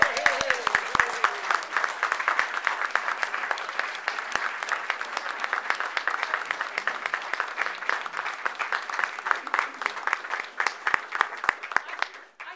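Audience applause following an award announcement at a National Trust designation event naming Athens, Georgia a Dozen Distinctive Destination; sustained, dense clapping from a crowd that holds steady for about ten seconds before thinning out near the end.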